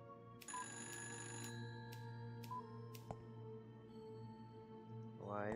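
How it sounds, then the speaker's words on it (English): In the video game Fran Bow, an old-style telephone bell rings in repeated short bursts over a steady musical drone, fairly faint. "Why is there a phone ringing?"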